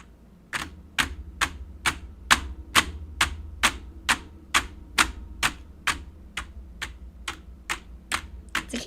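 Someone strikes a computer keyboard in slow, evenly spaced, sharp clacks, about two per second, each key hit loud and close over a faint low background hum, with no voices.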